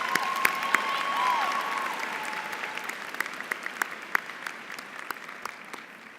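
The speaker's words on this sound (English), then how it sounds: "Can we give them all a round of applause?" Audience applause fills a hall at a Spelman College commencement ceremony in 2018, dense steady clapping from a large crowd, loud and sustained with scattered sharp claps throughout.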